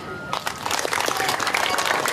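An audience at a Maulid Nabi religious gathering bursts into applause after a short pause, a brief, full wash of clapping that fills the rest of the moment.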